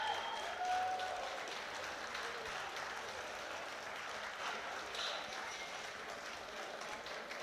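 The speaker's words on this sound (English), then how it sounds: "They deserve their round of applause." Audience at a European equipped powerlifting championship giving a round of applause, a steady wash of many hands clapping from across the venue, moderately loud and sustained.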